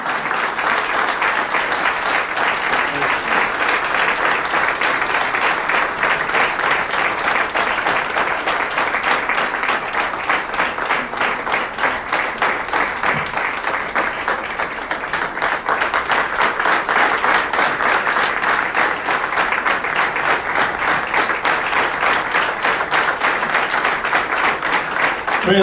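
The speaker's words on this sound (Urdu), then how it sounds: "زوردار تالیاں" Loud, sustained applause fills a church revival meeting, a dense wash of many hands clapping steadily from start to finish with no break.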